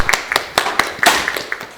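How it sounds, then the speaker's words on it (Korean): Scattered hand claps at a middle school student debate, a few people clapping unevenly at close range rather than a full crowd. "큰 박수 부탁드립니다."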